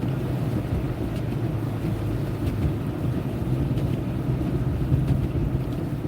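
Car tires churning through slush on a highway during a snow storm, a steady broadband rumble and hiss with wind noise, continuous and fairly loud throughout with no talking.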